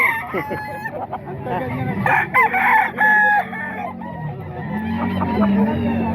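Gamecock roosters at a market in Bukawi crow loudly and repeatedly, close by, with clucking from other fowl and a faint voice in the background.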